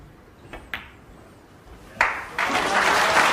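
Applause breaks out at a snooker match during a World Championship first-round game, following a couple of sharp ball clicks, a sustained ripple of clapping from the crowd.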